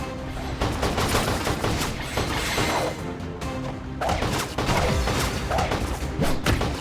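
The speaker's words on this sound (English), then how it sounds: "Most of the damage with this character will come from the machine gun that she carries" Rapid bursts of machine gun fire in the video game Cookie Run Ovensmash, dense clattering shots with thumps and crashes, loud and continuous.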